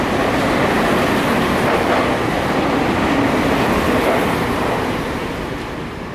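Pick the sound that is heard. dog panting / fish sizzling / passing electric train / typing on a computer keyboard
passing electric train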